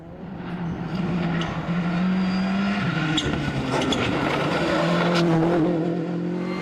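A Peugeot rally car in a World Rally Championship stage in Catalunya runs at speed, its engine roaring loud and close with rising and falling revs over gear changes, plus hints of tyre noise, and no voices.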